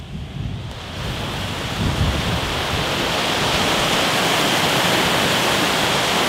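A fast, swollen river rushes past close by in open boggy country, a steady, loud broadband roar of churning water with wind buffeting the microphone, continuous throughout with no voices.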